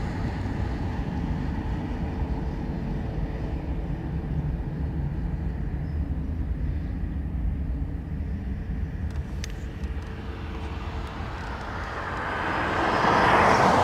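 A Ryanair airliner arriving from Madrid approaches Dublin Airport, a steady distant jet rumble that slowly swells louder and brighter toward the end as it nears.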